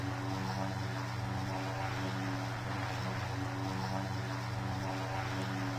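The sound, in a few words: Cessna Caravan aircraft engine cruising in PTFS video game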